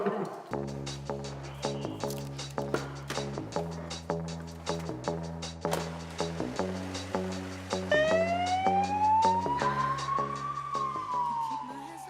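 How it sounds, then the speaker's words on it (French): An ambulance siren swells and wails upward late on, cutting through a busy, rhythmic background of steady tones, moderately loud and approaching. "Un véhicule prioritaire qui s'approche avec les feux bleus et la sirène allumée"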